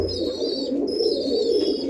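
Rajasthani giribaj pigeons coo in a continuous close, fairly loud murmur, several birds layered together, with a thin higher tone drifting above.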